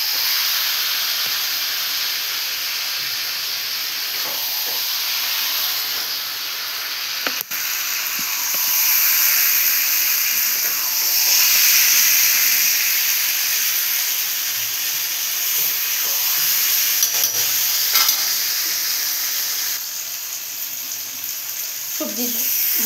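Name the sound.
vegetable spice masala frying in a pan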